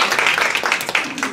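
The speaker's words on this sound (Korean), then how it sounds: "박수 좀 주세요" Audience at a fan meeting and seminar breaks into a short burst of dense clapping, loud and steady throughout, with a voice briefly heard under it.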